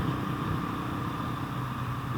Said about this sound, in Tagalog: Sunod-sunod, halos mga motor.